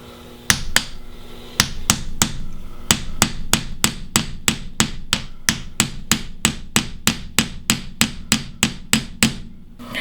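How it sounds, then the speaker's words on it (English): A ball peen hammer strikes silver wire on a hard surface to flatten it for a wire-wrapped necklace, a steady run of close, sharp metallic taps, about two or three per second, evenly paced. "At this point, I like to switch to the ball peen hammer."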